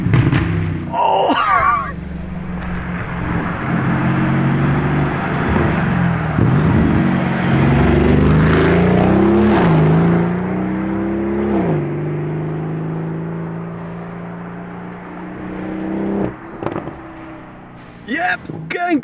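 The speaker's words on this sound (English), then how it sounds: "Loud Urus incoming, check it out!" A loud Lamborghini Urus revs and accelerates close by, its engine roaring and rising in pitch over several seconds, with a shout near the start and excited voices toward the end.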